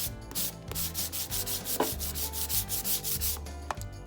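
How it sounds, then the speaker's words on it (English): A sanding block rubs back and forth over a white-painted glazed glass jar in quick, rhythmic scratchy strokes, close and fairly quiet, with a few sharp knocks mixed in. "So now I'm going to just take this same sanding block"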